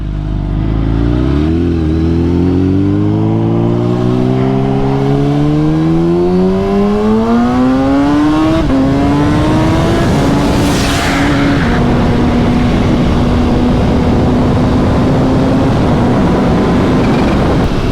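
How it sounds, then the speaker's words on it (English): A loud supercharged Kawasaki Ninja H2 engine revs up through rising pitch, then settles into a steady high drone, with a brief hissing whoosh of blow-off valves. "You can hear the blow-off valves letting out all that pressure."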